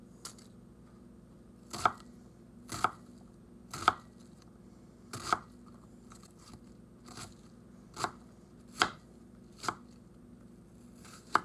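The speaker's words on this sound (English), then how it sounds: "before getting the onions out of my way, slicing into" A knife chops onions into small cubes on a cutting board, making about a dozen sharp, crisp thuds at an uneven, unhurried pace, close and clear over a quiet room with no talk.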